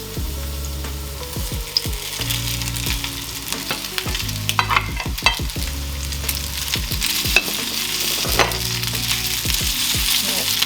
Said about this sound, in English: I'm gonna put some udon noodle in the pan now